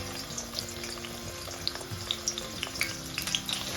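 Onion frying in warm oil in a pan, a soft steady sizzle with scattered light pops and crackles running throughout, close and moderately quiet, with no voices.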